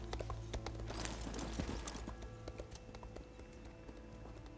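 Horse hooves clip-clop steadily in The Elder Scrolls Online, a quick irregular run of hoofbeats at moderate distance over a constant ambient background, with no talk.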